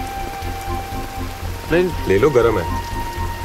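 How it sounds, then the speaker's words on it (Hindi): Steady rain falls throughout, a broad hiss with low rumble, while a voice speaks briefly over it in the middle. "बारिश हो रही है बेकार में क्यों भीग रहे हो"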